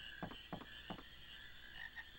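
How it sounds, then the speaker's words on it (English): Frogs croak in Final Fantasy IX, three evenly spaced croaks followed by a softer fourth, heard over a steady high-pitched ambient game backdrop, moderately loud and close. "just chasing frogs"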